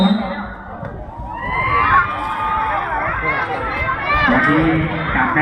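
A cheering squad at a local anti-drug sports competition in a Thai subdistrict calls out in a noisy, sustained chorus of shouting voices, lively and close, with children's cries mixed in.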